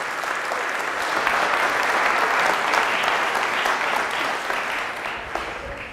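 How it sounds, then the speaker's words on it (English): Warm applause from an audience welcoming a speaker to the stage, a steady, dense round of clapping that holds at full strength for several seconds before easing slightly at the end. "please give him a warm round of applause."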